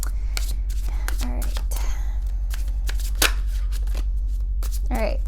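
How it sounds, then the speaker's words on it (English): Tarot cards are shuffled and pulled during a reading, with a run of quick, papery riffles and crisp snaps close to the microphone, over a steady low hum and soft breathy voice sounds. "So I'm going to pull 3 cards."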